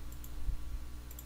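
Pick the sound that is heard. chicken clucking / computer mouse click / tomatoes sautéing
computer mouse click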